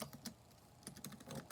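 Keys clack on an OMOTON KB505 Bluetooth keyboard in a quick, uneven typing run of several light taps. The strokes are close and clear, with no voices over them.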